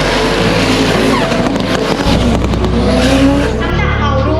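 Toyota Gazoo Racing race cars roar loudly through a street race in Phuket, engines droning continuously with rising revs, possible tire squeal, and crowd or commentary noise underneath.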